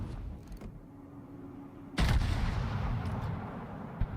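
Warship guns firing in World of Warships, with one heavy, booming blast partway through followed by a rumbling tail and a smaller thump near the end, over low mechanical background noise.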